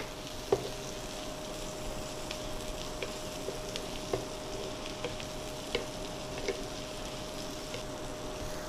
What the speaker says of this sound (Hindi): मैं इसमें कटी हुई मिर्च जो है ग्रीन चिल्ली वो मैं इसमें ऐड करूँगा ताकि ये भी थोड़ा सा भुन जाए इसमें।